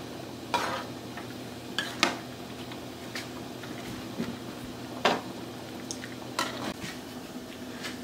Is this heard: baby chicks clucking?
no